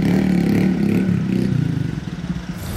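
A mini motorbike fitted with an Akrapovič exhaust revs close by, a throaty low burble that rises and falls in uneven pulses over a few seconds.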